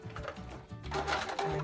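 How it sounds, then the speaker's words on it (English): A sewing machine runs a short forward-and-back stitch on skirt fabric, its rapid mechanical whir pausing briefly before surging again, close and steady with no talk. "Forward and back stitch at the end"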